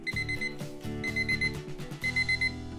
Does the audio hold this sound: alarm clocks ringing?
yes